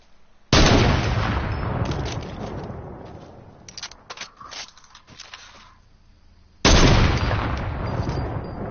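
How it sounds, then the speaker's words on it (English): Gunfire in the Fortnite video game during a playground match, loud dense bursts of shooting that start abruptly, fade into scattered shots, then return just as strongly near the end. "Why are you shooting at me?"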